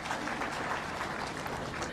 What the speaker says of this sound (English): another round of applause for yourselves for applauding those that have spoken